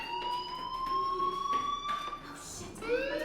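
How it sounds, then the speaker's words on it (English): A fire alarm sounds in the video game Life Is Strange, a faint steady rising electronic tone that persists over background ambience and brief game noise. "Hey, do you hear that fire alarm? That means you should be outside."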